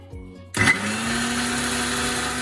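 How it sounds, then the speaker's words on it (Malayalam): A mixer grinder grinding bread in its jar whirs up suddenly after a quiet moment, then settles into a loud, steady high-pitched grinding hum. "ഈ ബ്രെഡ് മിക്സിയുടെ ജാറിനകത്തിട്ട് അടിച്ചെടുക്കാൻ പോവാണ്"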